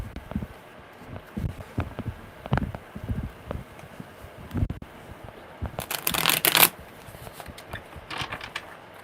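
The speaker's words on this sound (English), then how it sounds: "Okay, one more good shuffle." A deck of tarot cards is shuffled by hand, with repeated riffling bursts and soft papery slaps in an uneven rhythm, close and moderately loud, growing busier toward the end.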